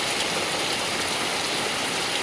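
Heavy rain pours steadily, a loud dense unbroken wash of noise with no gaps.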